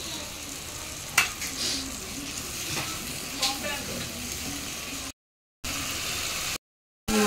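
Spice masala with poppy seed paste, turmeric and chilli powder fries in a pan with a steady sizzle, broken by a few sharp scrapes of stirring and two brief silent gaps near the end.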